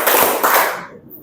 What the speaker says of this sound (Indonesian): Tepuk tangan 2 kali.